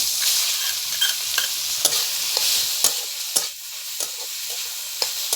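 Papaya being stirred in ghee in a pan gives a steady close sizzle, with a few sharp scrapes and clicks of the spoon against the pan scattered through.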